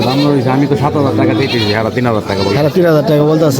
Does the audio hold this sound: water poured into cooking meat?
no